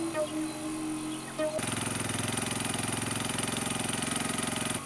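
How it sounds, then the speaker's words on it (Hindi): A motorcycle engine comes in after a quieter opening second and a half, then runs loud and close with a steady, throbbing idle-like rhythm for the rest of the clip. "कोई बाइक सी की आवाज सुन रही है मुझे।"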